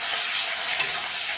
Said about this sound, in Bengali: তো পেঁয়াজগুলো আগে ভেজে নেব লাল লাল করে